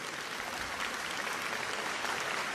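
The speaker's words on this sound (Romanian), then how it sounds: "Și noi să-i aplaudăm." An audience applauds children at a classical music show for kids, a steady dense clapping that fills the whole stretch without pause.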